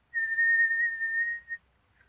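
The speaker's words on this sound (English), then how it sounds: "Purse your lips together like you're going to whistle" A person whistles through pursed lips, holding one steady, clear, high note for about a second and a half, close and alone, followed by a faint brief trailing note.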